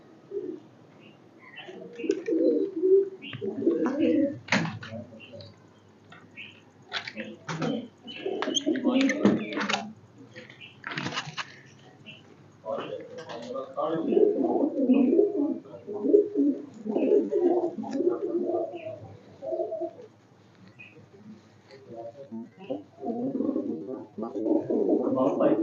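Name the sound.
pigeons cooing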